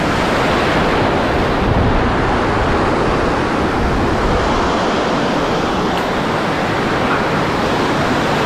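Rough sea surf rolling onto a summer beach scattered with seaweed: a continuous loud, broadband roar of breaking waves mixed with wind buffeting the microphone, with no voices.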